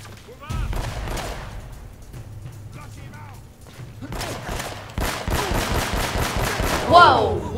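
Rapid bursts of sniper and automatic gunfire in the video game Uncharted: Drake's Fortune, loud and close, with repeated shots in quick succession and a voice speaking between them.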